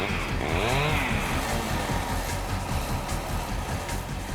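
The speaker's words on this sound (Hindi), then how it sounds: "हम तुम्हें कुछ बाइक्स की आवाजें सुनाएंगे।" A motorcycle engine whines up sharply in one quick rev, then settles into a rough, steady idle close by.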